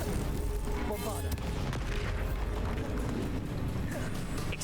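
A Bombarda explosion spell cast in Hogwarts Legacy, loud booming blasts layered over busy combat effects and music, with a voice speaking over the action.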